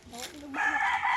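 A brief chicken-like call in a guessing game, rising into a sustained crowing tone after a short lower opening, loud and close, lasting about a second.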